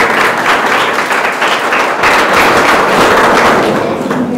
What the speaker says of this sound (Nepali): हामी उहाँलाई र एकतालाई ताली बजाएर